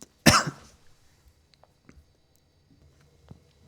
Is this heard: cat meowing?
no